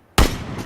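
A single sharp gunshot rings out in the battle royale game PUBG, a sudden loud crack followed by a short rolling echo tail, heard alone without talk.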